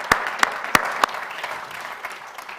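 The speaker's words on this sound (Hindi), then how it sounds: "एक बार जोरदार तालियां हो," Applause from an audience at a Hindi poetry gathering, greeting a poet. A few sharp, loud claps stand out at the start, then the clapping settles into a steady, fainter patter from the crowd that carries to the end.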